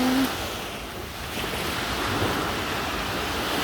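Sea waves wash on Phuket beach in a steady, rolling surf mixed with wind buffeting the microphone. The sound is fairly loud and continuous, with no voices.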